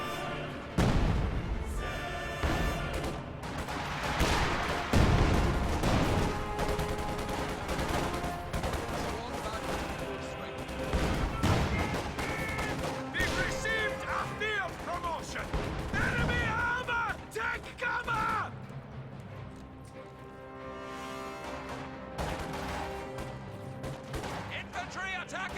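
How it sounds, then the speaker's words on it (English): Gunfire and explosions from a real-time strategy video game, with an infantry support gun pounding a squad of conscripts; dense, loud bursts of shots and blasts roll continuously throughout, with a voice talking over the battle. "Infantry support gun working on a squad of conscripts"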